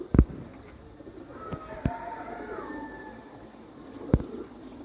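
Domestic pigeons coo softly in a drawn-out, wavering call, with a few sharp knocks and taps around it in an otherwise quiet space.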